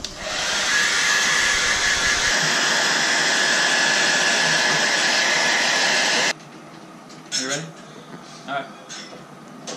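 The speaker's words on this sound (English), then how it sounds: "We're putting a dryer to it now." A hair dryer blows loudly and steadily for about six seconds, aimed at something icy, then cuts off abruptly, leaving quieter background sounds and faint voices.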